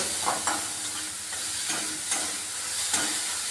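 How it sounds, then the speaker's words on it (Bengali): Grated garlic and ginger fry in a pan with a steady close sizzle, punctuated by several soft scraping stirs at irregular intervals. "আর রেখেছি আদা গ্রেট করা, এগুলো আমি ভেজে নিচ্ছি প্রথমে, যাতে কাঁচা গন্ধটা না থাকে"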